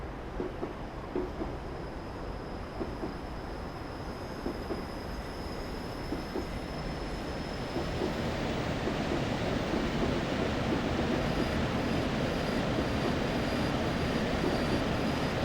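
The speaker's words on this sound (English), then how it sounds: "now idle the power completely and just allow the train to coast at this point" A Class 150 diesel multiple unit coasting with power idled between Norwich and Lowestoft, simulated in Train Simulator 2016: a steady rumbling roll of wheels on track with a faint high whine, continuous and even, growing slightly denser toward the end.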